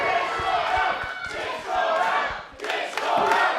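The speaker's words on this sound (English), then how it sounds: "And this crowd chanting, "Get Shaw out."" At a New Zealand professional wrestling event, an arena crowd chants in loud, rhythmic waves, with a brief dip in the middle before the chant swells again.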